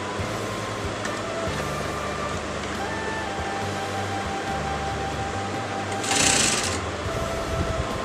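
An electric sewing machine stitches a fabric collar together, its steady motor whir and rapid needle clatter running nonstop, with a brief louder burst near the end.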